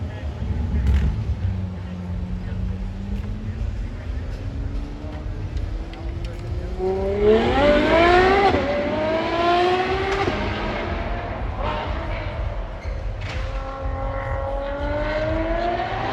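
A hypercar at its world premiere in Abu Dhabi accelerates out of the pit lane, its engine note climbing through several rising sweeps and gear changes, loud and close, with someone talking over it.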